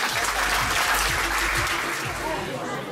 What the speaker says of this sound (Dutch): Applaus voor deze dames.